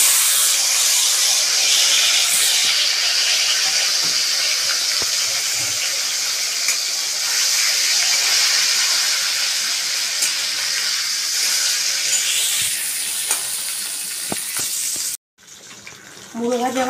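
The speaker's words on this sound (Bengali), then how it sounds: "এবার আমি মাছের মুড়ো ভেজে নেব।" A catla fish head fries in hot oil, giving a loud, steady, close sizzling hiss that holds for about fifteen seconds, then cuts off sharply before a few faint clinks.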